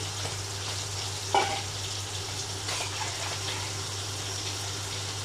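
A pan of thin fish curry with stalks, pointed gourd and potatoes keeps up a steady hiss and bubble, broken by one brief splash as water goes in.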